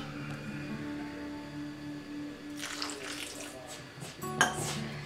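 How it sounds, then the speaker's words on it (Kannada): Water poured and worked by hand into flour for karigadabu dough, a soft wet trickle and splash with a brief louder burst near the end, fairly quiet and close. "ಈಗ ಸ್ವಲ್ಪ ಸ್ವಲ್ಪನೇ ನೀರು ಹಾಕಿ ಕಲಸಬೇಕು."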